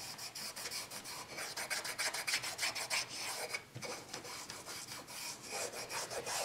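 Dark wax is rubbed by hand into chalk-painted wood, a close, rhythmic rasping scrub in quick repeated strokes with a brief pause midway and no talking.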